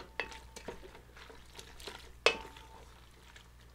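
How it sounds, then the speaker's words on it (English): Pasta with teriyaki sauce and mushrooms is stirred around in a pan, with soft scraping and several sharp clinks of a utensil against the pan over a faint sizzle, close and unhurried. "Just stir it around so that all the sauce gets in with the pasta."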